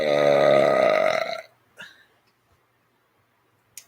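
A single loud, drawn-out human burp, close and resonant for over a second, followed by a short breathy sound and then quiet.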